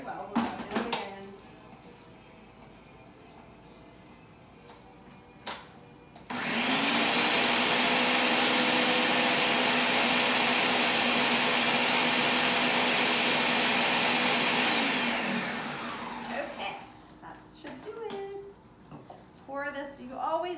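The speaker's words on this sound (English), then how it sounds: "I have this Ninja blender." A Ninja blender whirs loudly for about nine seconds, blending a peach slushee craft cocktail, its motor a steady high roar that winds down, with brief kitchen clatter and light handling sounds before and after.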